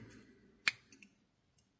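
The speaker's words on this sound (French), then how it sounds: "Et je vais couper le fil." Scissors cut crochet yarn for a small amigurumi snowman with a single sharp, close snip, followed by a couple of faint clicks and a tiny tick in near silence.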